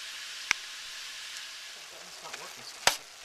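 Buffalo meat for tacos sizzles in a hot pan, a soft steady frying hiss with two sharp clacks of utensils against the pan and brief scraping as it is stirred.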